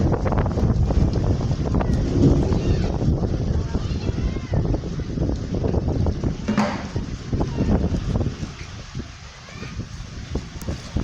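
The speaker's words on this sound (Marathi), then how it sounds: "खूप वारं सुटलं" Strong gusty wind of a monsoon storm with heavy rain roars and buffets the microphone, loud and continuous with fluctuating surges, while a voice speaks intermittently underneath.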